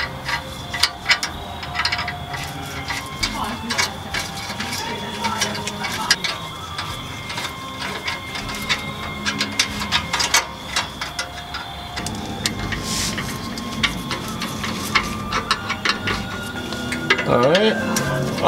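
Tightening an adjustable clamp on a car's exhaust heat shield produces rapid clicking and ratcheting ticks with metallic scrapes, close up and fairly busy, while a person talks intermittently over the work.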